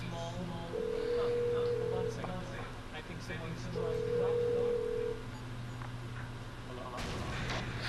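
A phone is dialed in the video game Grand Theft Auto V, two sustained electronic tones sounding under a steady low hum while someone talks over it.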